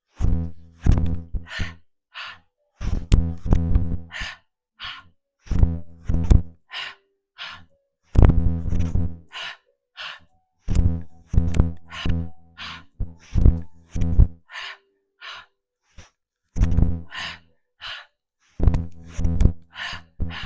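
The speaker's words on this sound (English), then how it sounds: "Inhale, inhale, exhale, exhale." Rhythmic yoga breathing in a root chakra practice, paired double inhales followed by double exhales, repeating in steady cycles of loud, close breath sounds with brief pauses between.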